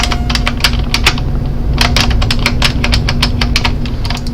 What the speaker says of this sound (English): You do hear lots of keyboard.